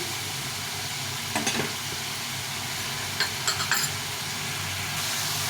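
Onion-tomato masala with salt frying in oil in a pan, a continuous soft sizzle and hiss with a few brief stirring scrapes, close by and without speech.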